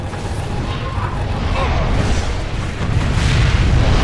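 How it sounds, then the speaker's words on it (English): Nuclear missile explosions in the strategy game Generals Zero Hour, a loud continuous rumbling roar that swells and holds for the whole stretch, without clear separate blasts. "Warning, nuclear missile launched. Another nuclear missile."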